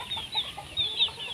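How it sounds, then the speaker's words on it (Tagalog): Chicks and hens in a pen make soft, high clucks and peeps in short bursts, close and fairly loud, with no talk. "tapos ayan ang daming sisiw"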